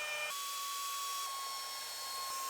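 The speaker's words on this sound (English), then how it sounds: "we're just going to drill out our welds and separate it" An electric drill bores out spot welds on the inner rocker of a 2018 Sierra pickup truck, giving a steady high whine close up that shifts pitch slightly as the bit cuts through the sheet metal.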